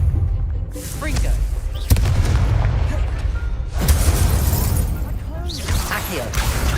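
Confringo blasting spells go off in the game Hogwarts Legacy, three or four heavy booming explosions with rumbling tails in close succession while a person talks over them.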